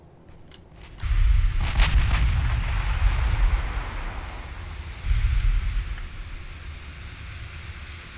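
Heavy naval guns fire salvos in the warship game Ultimate Admiral Dreadnoughts, loud booming blasts that roll into a long rumble, with a second burst of fire midway and sharp cracks above it.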